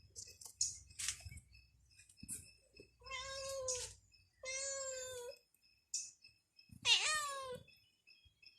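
A cat meows several times on a sunny morning outdoors, giving clear drawn-out cries separated by quiet pauses, close and distinct, with faint rustling between the calls.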